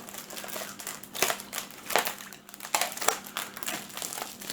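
A plastic bag of the kind used by Thai vendors is twisted and sealed up close, giving a steady crinkling rustle with sharper crackles every second or so.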